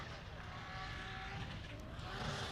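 A Nissan 240SX drift car during Formula Drift Pro 2 qualifying at St. Louis, its engine droning steadily at a distance with crowd and track ambience, and a faint voice underneath.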